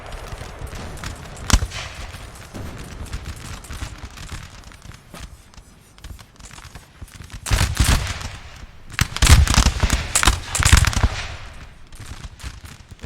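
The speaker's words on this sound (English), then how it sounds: "The first line battle has begun. The Russians are already underway firing, and the French will respond very shortly" Musket volleys in a Napoleon Total War line battle between Russian and French infantry: scattered crackling shots, then dense rolling bursts of massed fire swelling loud around the middle and end, with no talk.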